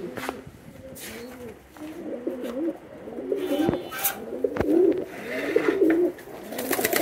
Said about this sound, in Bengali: আমার রেড লাহোরি সব থেকে পছন্দের কবুতর আমার ফার্মের